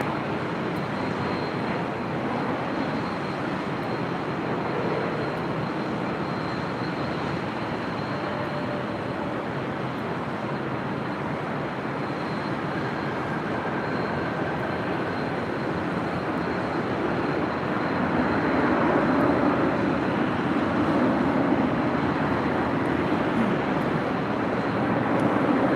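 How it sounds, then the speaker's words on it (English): United Airlines Boeing 737-900ER landing at LAX, a broad continuous jet engine roar that holds steady and swells slightly toward the end, heard at a distance with no talking. "That was United Airlines Flight 1275 coming in from Cancun, Mexico, and a 737-900ER"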